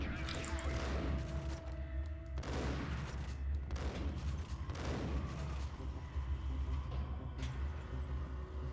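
Gunfire in the video game Max Payne: a string of loud, sharp shots in quick succession over a constant low rumble of game noise, with a few broad blasts spaced about a second apart.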